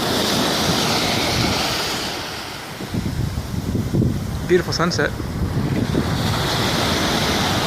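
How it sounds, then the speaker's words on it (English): Ocean surf breaks and rolls continuously while wind buffets the microphone, a loud close wash with a dip midway; someone speaks briefly over it. "These waves, man, they ain't messing around."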